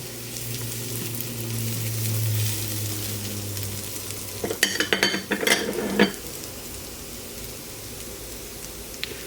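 Garlic, softened shallots and lemon zest sizzle steadily in a frying pan, and a spoon stirring them makes a short burst of scraping and clatter in the middle before the gentle frying settles again.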